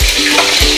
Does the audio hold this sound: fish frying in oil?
yes